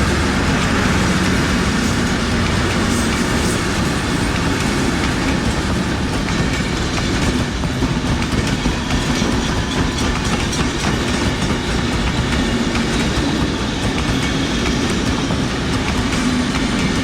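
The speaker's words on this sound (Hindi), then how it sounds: "ये है जी वो हसन अब्दाल रेलवे स्टेशन का प्लेटफॉर्म" Train at Hasan Abdal railway station platform, heard as a loud, steady rumble of rolling wagons with continuous wheel clatter that holds through the whole stretch.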